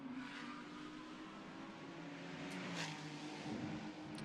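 The 2.9-litre six-cylinder Ferrari 296 race car climbs San Francisco Hill at the Macau Grand Prix GT Cup qualifying with a steady, droning engine note that rises in pitch, moderately distant, amid wide track ambience, with no talk.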